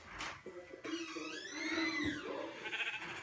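Minecraft cow lets out one drawn-out, rising-and-falling moo at moderate loudness, with game clicks and faint background noise around it.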